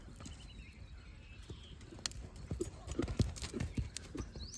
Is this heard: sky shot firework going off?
no